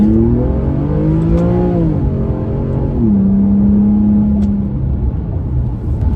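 A 2008 Infiniti G35xS with a Stillen cat-back exhaust runs nearby, a low, smooth engine note rising and falling through revs, then settling into a steady, subdued drone.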